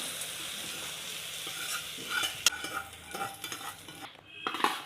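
Fried tempering is stirred into tamarind rice pulihora with the stove just switched off. A soft sizzle sits under scattered close scrapes and clinks of a spoon against the vessel.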